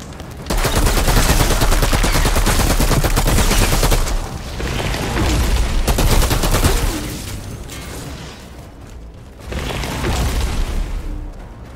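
Sustained rapid gunfire from a weapon in the Outriders video game, loud dense bursts that run for several seconds, ease briefly, then resume in shorter volleys.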